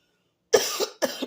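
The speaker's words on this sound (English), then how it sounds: "I have a little cough." Two short, dry coughs from a woman, close and clear, the first slightly longer than the second, after a moment of silence.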